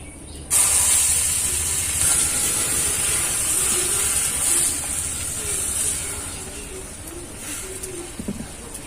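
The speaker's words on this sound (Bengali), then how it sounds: "বাকি ডিমটাও ভেজে নেব" An egg omelette fries in a pan, a loud, steady close-up sizzle that starts abruptly after a brief quiet moment and continues throughout, with a small clatter near the end.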